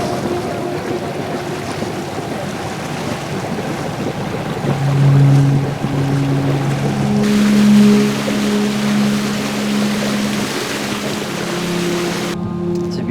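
A sailboat motoring on open water on a calm day with too little wind to sail, a steady engine drone under rushing water and wind noise, with some tonal hums rising midway.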